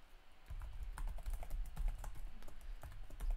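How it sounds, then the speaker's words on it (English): Keys clatter on a computer keyboard during a live-coding session, a quick irregular run of soft clicks and taps heard close and alone for a few seconds. "I'm going to be typing hello here"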